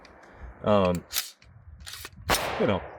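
An AR-15 rifle fires on a shooting outing, with a couple of sharp, short cracks among a man's speech, close and fairly loud.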